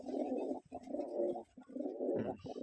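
Pigeons cooing nearby in soft, low, throaty phrases, three rolling bursts in a row with brief pauses.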